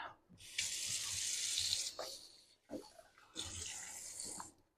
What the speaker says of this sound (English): So I'm going to pop this into the sink. Rinse off my spoon.